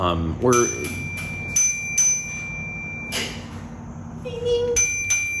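A bicycle bell rings several times in bright, sustained metallic dings outdoors in town, repeating in short bursts amid background street noise, with a voice briefly heard.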